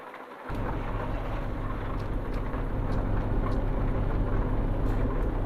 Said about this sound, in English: Oh, look at that thunderstorm we wake up to.